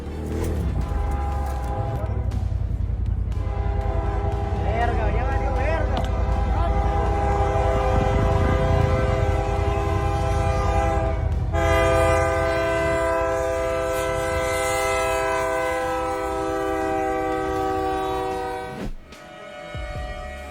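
A train rumbles past close by, its loud horn blaring in long sustained blasts over the clatter of the wheels.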